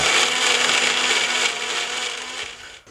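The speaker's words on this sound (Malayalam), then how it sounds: "എന്നിട്ട് കുറച്ച് ശർക്കര അങ്ങോട്ട് ഒഴിച്ചു കൊടുത്തിട്ട് അതും നല്ലപോലെ അങ്ങോട്ട് അടിച്ചെടുക്കുക." A blender whirs steadily as it purees banana with jaggery for a Thrissur-style unniyappam batter, a loud close grinding roar lasting a few seconds before spinning down at the end.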